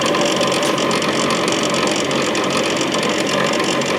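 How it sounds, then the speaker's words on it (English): Gearbox gear driving the auger on a 1959 Axeman-Anderson 130M coal stoker boiler, a steady, loud mechanical ratcheting and grinding clatter that runs continuously and evenly throughout, with no voices. "This gear here from the gearbox drives the auger"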